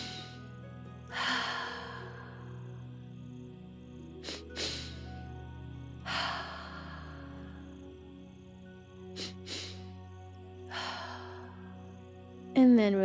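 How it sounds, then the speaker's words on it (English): During a yoga breathing exercise, a person takes two quick sniffing inhales through the nose followed by one long audible exhale through the mouth, repeating several times over a soft tonal background. "And engaging 2 short inhales through the nose, 1 long exhale through the mouth."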